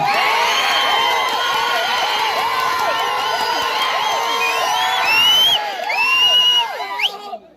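A dense crowd at a Telugu Desam Party rally shouts and cheers continuously, with many overlapping voices and whistle-like calls rising and falling. The sound stays loud throughout and thins out at the very end.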